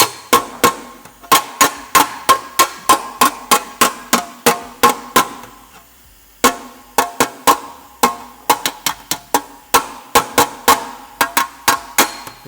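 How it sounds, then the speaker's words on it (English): Sharp metallic hammer blows on a dolly, shaping motorcycle sheet metal tacked by MIG welding, in rapid even bursts with a short pause midway, close and loud with ringing strikes. "we're trying to hammer on dolly because we want to stretch this back up"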